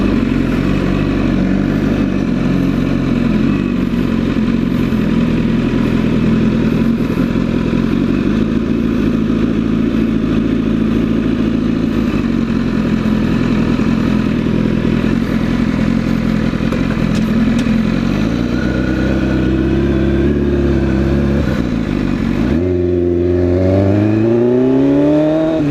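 Motorcycles riding close by, with a loud, sustained engine roar that holds steady and then revs and shifts sharply near the end as a rider accelerates past.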